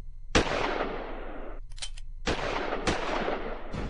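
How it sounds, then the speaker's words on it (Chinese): Gunfire recalls a 1949 shooting on Hennessy Road in Hong Kong: several loud, sharp shots, each with a long echoing tail, plus one quick rattling burst in between. "1949年9月19日，香港轩尼诗道260号响起的枪声，让新政协在诞生前蒙上了阴影"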